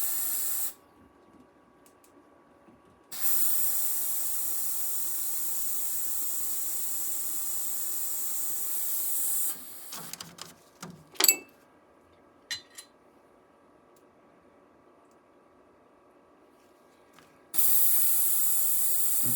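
An airbrush being cleaned sprays in bursts, with long steady hisses broken by silent gaps and a few short sputters and clinks in between; close and fairly loud.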